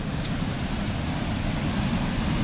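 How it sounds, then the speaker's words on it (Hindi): Water rushes out of a dam outlet in Punjab through a fully opened valve, making a steady, dense, unbroken roar that fills the space from start to finish, with no voices. "यहाँ से पानी एग्जिट हो रहा है"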